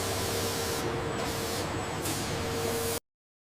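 A protective finish is sprayed onto palm-wood furniture on a factory line, a steady, close, broad hiss with slight pulsing for about three seconds before cutting off to silence.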